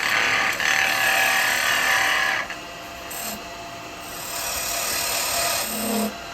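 A woodturning tool scrapes and rasps against the spinning bottom of a wooden lidded snowman gift box on a lathe, a steady close cut that drops off midway and returns more lightly, with the lathe hum underneath.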